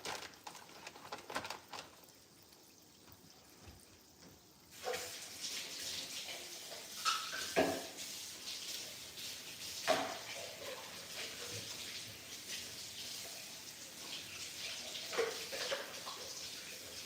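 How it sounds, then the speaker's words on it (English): Water is poured into a container during breakfast preparation, a soft splashing trickle starting partway through and continuing with intermittent louder splashes, recorded quietly indoors. "I'm just going to add some water."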